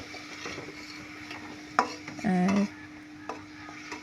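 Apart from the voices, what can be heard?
stirring onion, garlic paste and spices frying in pan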